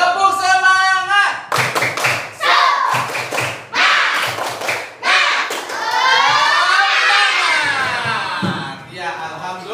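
A classroom of students performs a rhythmic group clapping chant, a run of sharp, loud claps in patterned bursts near the microphone, with children's voices calling out and a teacher speaking before and after.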